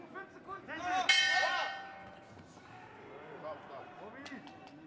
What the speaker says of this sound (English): there goes the bell at the end